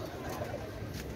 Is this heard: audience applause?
no